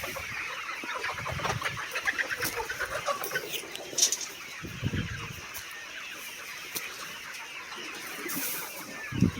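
A flock of chickens clucks and squawks continuously at close range while being moved from the floor into a cage with 5-6 mm rods, with busy overlapping calls and no talk.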